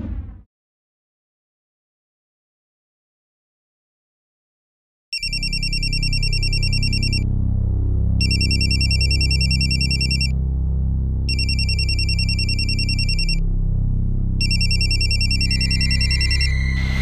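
An electronic telephone ringtone plays in four repeated bursts over a steady low hum, loud and close, as a phone call is being placed.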